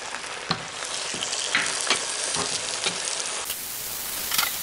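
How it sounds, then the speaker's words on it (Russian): Garlic clove frying in oil in a pan over the highest heat gives a steady broadband sizzle and crackle, close and continuous, with occasional sharper pops and no talking. "кладем сюда зубчик чесночка, нагреваем сковороду на самый большой огонь и обжариваем"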